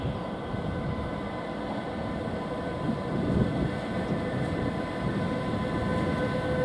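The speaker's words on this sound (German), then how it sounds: "Gleis 3 ist eingefahren, IC 2206 nach Norddeich-Rode." An IC intercity passenger train rumbles steadily into Duisburg station on platform 3, with low mechanical drone and faint tonal whine, swelling briefly midway as it rolls slowly along the platform.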